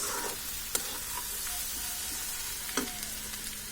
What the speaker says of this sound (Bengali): টমেটো সসটা দিয়ে দিচ্ছি।